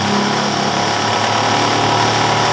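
A small universal motor whines loudly and steadily at high speed, a dense continuous buzz with a constant pitch and no pauses.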